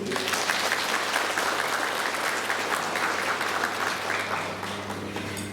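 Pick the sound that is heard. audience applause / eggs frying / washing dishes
audience applause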